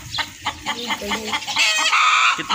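A hen clucking loudly and close in a Pakistani village yard, a run of rhythmic clucks rising into a drawn-out squawk, with a brief spoken word at the start.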